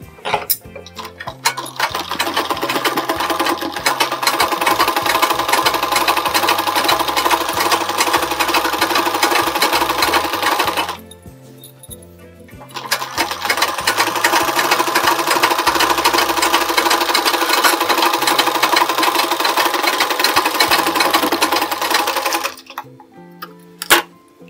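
A sewing machine stitches a lining blouse in two loud, steady runs of rapid mechanical clatter separated by a short pause, close up and with no talk.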